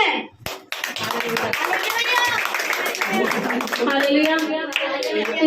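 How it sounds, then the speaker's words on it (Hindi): A congregation at a Christian worship service claps loudly after a testimony, a busy burst of many hands clapping with voices speaking and calling out over it. "इस गवाही के लिए जोर से ताली बजाएंगे, परमेश्वर की महिमा करेंगे।"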